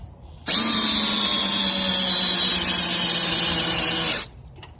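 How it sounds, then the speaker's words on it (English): A cordless drill driving a car jack whirs at high speed for about four seconds, starting and stopping abruptly, loud and close with a steady pitch. "I prefer my handy dandy drill"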